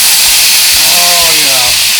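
Lemon juice squeezed over rainbow trout frying in a pan, a steady close hiss of sizzling with a few brief tonal squeaks rising and falling across the two seconds.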